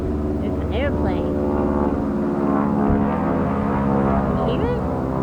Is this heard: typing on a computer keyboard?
no